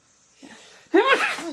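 A single close sneeze, a short intake of breath followed by a sharp voiced burst.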